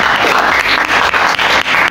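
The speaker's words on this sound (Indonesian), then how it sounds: "Oke, tepuk tangan untuk semuanya." A class of students in an Indonesian school lesson breaks into applause, loud, close clapping with a few stronger bursts pulsing through it for a couple of seconds.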